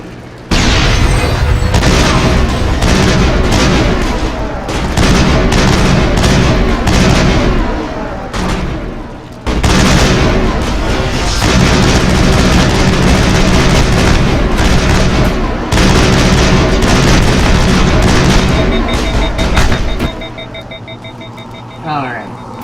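Loud, dense game combat from Mass Effect, with booming grenade blasts and gunfire rolling almost continuously for about twenty seconds before dropping away to quieter ambience.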